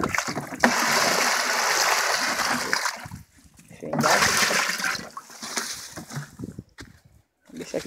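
Water gushes steadily into a cattle water trough on a farm, a loud, close rushing splash that pauses briefly and then resumes, with a voice heard around it.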